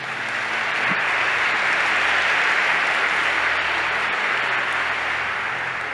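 A church congregation gives a steady, dense round of applause that swells in and holds evenly, with no voices over it.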